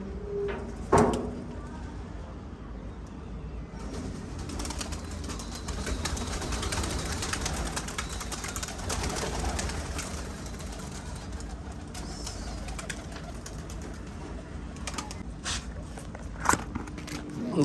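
Pigeons let out of a cage at a pigeon club, a flurry of wing flaps and rustling around a second in, then steady handling noise, scattered thumps and a soft coo amid outdoor background, with a person talking throughout.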